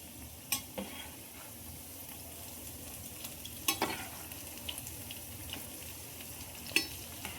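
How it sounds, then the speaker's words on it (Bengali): Potato and paneer pakoras frying in oil, a quiet steady sizzle with occasional clinks and scrapes as the pieces are turned. "পকোড়াগুলো এই পিঠটা ভাজার জন্য উল্টে দেবো।"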